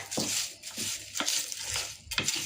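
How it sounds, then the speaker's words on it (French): Dubai chocolate bar filling with cereal being stirred in a bowl, giving a steady scraping, rustling mix with a few sharper spoon scrapes recurring about once a second, close and moderately loud, no talking. "On mélange."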